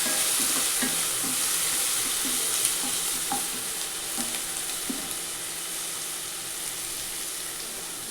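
Ginger garlic paste sautéing in oil in a pan for a vegetable pulao, a continuous loud sizzle with occasional soft scrapes of stirring.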